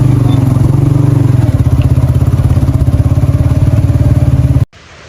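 A motorcycle rides along a rough jungle track toward Demala Ella waterfall in Sri Lanka, its engine chugging loud and close with steady clatter and thumps from the uneven surface before cutting off abruptly near the end.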